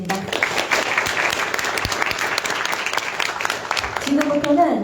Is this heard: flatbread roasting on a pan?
no